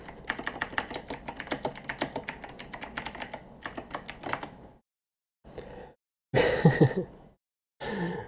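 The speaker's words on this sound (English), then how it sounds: "You could see how terrible my typing is." Rapid, uneven typing on a computer keyboard, dense key clicks for several seconds, then pauses and a few short bursts of keystrokes, close and fairly quiet.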